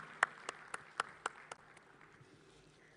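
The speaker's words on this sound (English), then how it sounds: "A huge round of applause as we welcome him." A few scattered claps from an audience welcoming a guest onto the stage at a National Space Day celebration, sparse, distinct and fairly faint, thinning out after the first couple of seconds.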